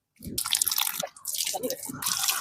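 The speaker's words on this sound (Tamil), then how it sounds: "இப்ப அப்படியே அலசி எடுத்துடலாம்" Soaked clothes are rinsed by hand in a tub of water, with bursts of splashing and dripping that come in two or three waves, close by and fairly loud; a voice is heard briefly.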